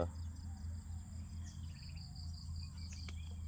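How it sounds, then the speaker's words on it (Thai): Frogs and small insects calling steadily across a rice field at sunrise, a dense continuous chorus of trilling and chirping with no voices over it. "เสียงกบเสียงเขียดมันโตนนะพี่น้องจุ๊บเจ็บจุ๊บเจ็บ"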